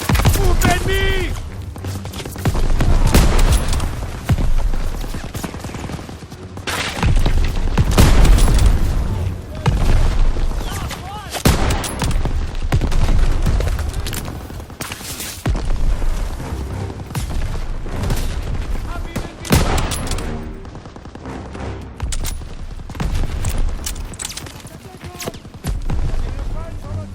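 Call of Duty WWII battle noise: repeated booming cannon blasts and bursts of rifle and machine-gun fire crowd the scene at close range, loud and irregular, with voices shouting beneath the explosions.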